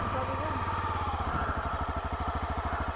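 Honda CRF250L dirt bike engine idling in the woods with a steady low pulsing chug, close and continuous, with people talking over it.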